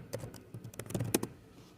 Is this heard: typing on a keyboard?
yes